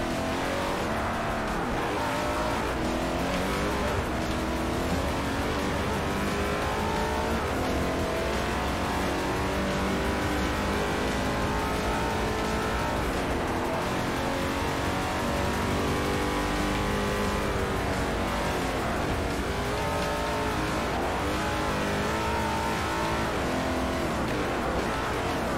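A race car in Forza Motorsport 4, an all-wheel-drive machine, roars continuously, its engine revving up and down through gears with occasional tire squeal, loud and steady throughout with no talking.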